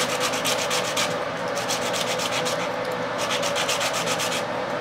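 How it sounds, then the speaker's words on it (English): Hand sanding on pallet-wood napkin rings, a brisk back-and-forth scratchy rasp repeating in a quick steady rhythm, close and continuous with no talking. "So we're doing some final sanding on the pieces"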